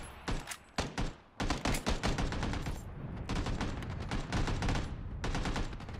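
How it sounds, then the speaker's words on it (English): Rapid gunfire from PUBG Battlegrounds (early access), loud and close, arriving as short staccato bursts that build into nearly continuous automatic volleys. "I put rounds into him, but he's not down."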